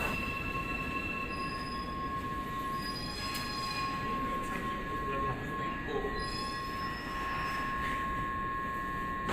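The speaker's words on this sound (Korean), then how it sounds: "몇 분 후에 드디어 대구 2호선 열차가 들어왔습니다" A Daegu Line 2 subway train rolls into the station with sustained metallic wheel squeal and steady rumble, loud and close, continuous over several seconds.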